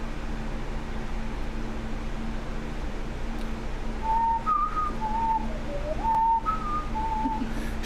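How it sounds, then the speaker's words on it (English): A person whistles a short, wandering tune of clear, steady notes, moderately close, over constant broadband background noise with a low hum. "She hates it when I whistle."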